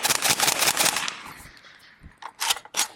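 An AK rifle firing hollow point rounds in a rapid close burst of sharp cracks, a ringing echo tail, then a few more separate loud shots outdoors.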